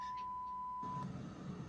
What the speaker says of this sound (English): You hear all the beeps?